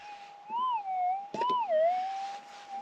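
A Minelab GPX 6000 metal detector sounds off over a hot rock of gray basalt, a clear, close warbling tone that rises and falls for a few seconds, with a brief scrape or clatter in the middle.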